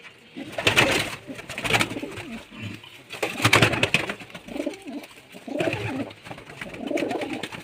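Pigeons of a fancy Andhra breed kept by a hobbyist coo in repeated low throaty bursts, close by, with soft rustling between calls.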